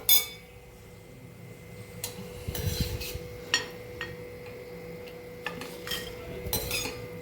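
Fried chillies lifted out of a pan of oil with metal utensils: scattered scrapes and clinks of spoon against the pan, a sharp knock at the start and irregular rubbing sounds throughout, close and clear.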